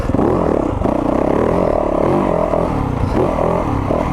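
A 2023 Yamaha YZ450FX dirt bike's engine revs hard and steady nearby, a loud continuous motor drone with rising and falling pitch throughout.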